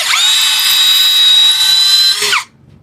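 A DWE D-019 13mm power drill runs loud and steady at high speed for over two seconds, a close whining motor buzz that cuts off abruptly as it spins down, without any talking.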